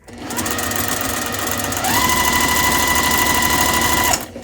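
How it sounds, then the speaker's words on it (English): Sewing machine edge stitching along a folded-over fabric edge while sewing a pocket onto a print, a steady close mechanical whir that picks up speed partway through, then stops abruptly. "let's just do an edge stitch along this fold over"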